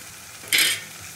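Masala with turmeric and cashew paste being stirred and fried for a Katla fish curry, a single brief burst of sizzle near the middle of an otherwise quiet stretch.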